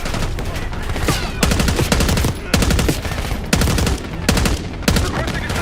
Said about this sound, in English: We're taking heavy fire at the helo.